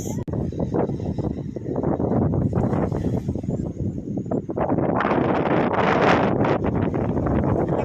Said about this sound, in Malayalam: കാറ്റുണ്ട് ഗൈസ്